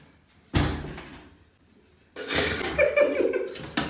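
A door bangs open on a TV-style prank show, a sharp loud impact followed by rustling and movement, then a second hit near the end, with room noise in between.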